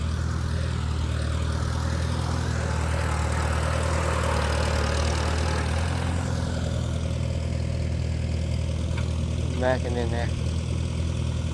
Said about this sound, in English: That's a nice tractor.